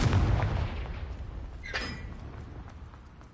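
A Confringo blasting curse from Hogwarts Legacy goes off as a loud low boom at the start, followed by a brief crackling burst and a fading rumbling tail.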